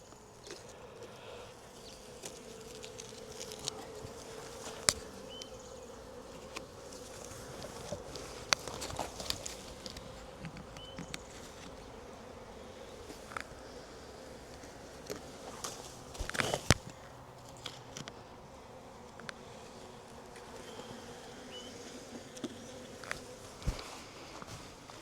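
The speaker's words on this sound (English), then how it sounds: "now is the really great part that we get to let the bees, and they're probably going to shoot out like" A steady swarm of bees buzzing close by as a hive is opened in April, with occasional clicks and knocks of handling throughout.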